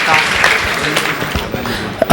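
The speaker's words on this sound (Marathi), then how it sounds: "आपल्या सर्वांची अनुमती म्हणून जोरदार टाळ्या या ठिकाणी आपण द्यायच्यात" A crowd at a temple gathering claps loudly, a quick, dense patter of hands close by. Voices carry over and through the clapping.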